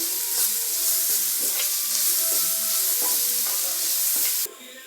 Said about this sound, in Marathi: आता त्यामध्ये शेंगदाण्याचा फूट घालून घ्यायचा आहे तो पण छानपैकी मिक्स करायचा आहे